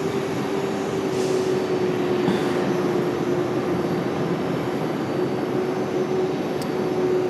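A Delta Airbus A321 departs Raleigh-Durham for Minneapolis with a steady, distant engine rumble and a constant whining tone, continuous and even throughout.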